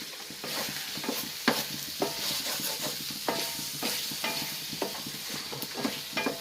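A wooden spatula stirs mutton roast in a pan, giving a steady scraping and sizzling with repeated sharp scrapes at a close, moderate level and no talk.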